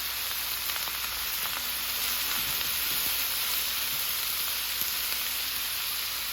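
Vegetables fry in hot oil with salt, turmeric and chili, giving a loud, constant, close sizzling hiss with a few faint knocks underneath.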